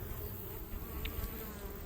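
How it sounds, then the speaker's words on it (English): A dense, steady hum of many honey bees rises from inside a full-size hive box, close and continuous with little variation, and no talking over it. "Seem to be quite a few bees in there."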